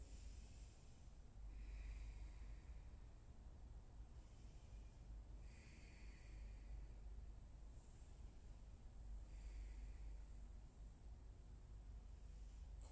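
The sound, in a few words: Ujjayi breathing in yoga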